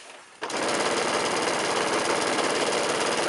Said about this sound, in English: I'm going to back stitch a few times and just come along to this corner.